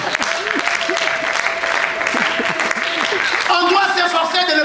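A church congregation clapping to acclaim God during a sermon, steady applause mixed with voices and a sustained musical tone, with music swelling near the end.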